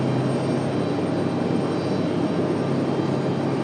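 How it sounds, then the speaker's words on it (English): An American Airlines Boeing 777 jet roars loudly and steadily on takeoff, a dense, unbroken engine rumble heard close with no voices. "The American 777 off and moving."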